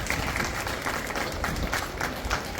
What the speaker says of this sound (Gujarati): મિત્રો, નવી કારોબારીને તાળીઓથી વધાવી લેશો.